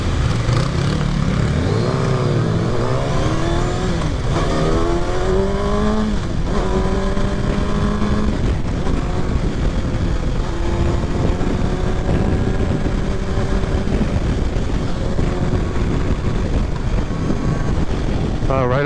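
A 2023 Kawasaki Ninja ZX6R accelerates on the road, its engine note climbing through the gears in repeated rising sweeps beneath constant loud wind rush, with faint speech in places.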